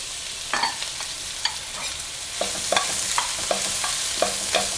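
Onion and prosciutto sautéing in a pan, a steady soft sizzle with repeated clinking stirs of a utensil against the pan, near and clear with no talking.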